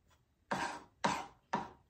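A knife chops ginger on a board with three crisp, evenly spaced strokes, close and clear in a quiet room.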